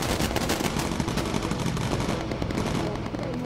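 German ME-262 jets fire 30mm cannons in the WWII bomber video game Bomber Crew, producing dense, continuous rapid bursts of loud gunfire that blend with sustained engine and battle noise.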